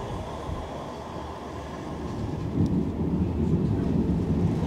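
A Manchester Metrolink tram heading back into Manchester gives a steady low rumble that swells slightly louder toward the end, with no voices over it.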